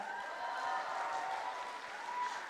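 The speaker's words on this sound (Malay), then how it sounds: "Kepada tim produksi ABP, tepukan untuk mereka." Audience applause at the ABPBH37 awards show, a steady, soft wash of clapping from a crowd heard at a distance, with no voices over it.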